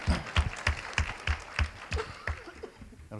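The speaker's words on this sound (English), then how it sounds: "I think she deserves a round of applause," A small group claps in a quick steady rhythm, a few people applauding close by for a couple of seconds.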